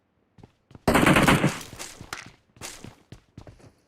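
Gunfire in PUBG on the Erangel map, a loud close burst of automatic fire followed by several sharper single shots and scattered knocks that fade out.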